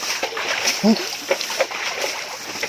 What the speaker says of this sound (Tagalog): Palsikan ng tubig, Samuel ah.